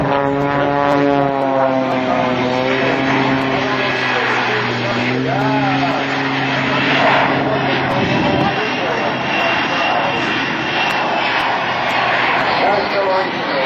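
A jet-powered truck, billed as a 36,000-horsepower record-holder, roars steadily and loudly at an air show open house, with a continuous turbine-like drone and a shifting pitch sweep midway, under crowd noise.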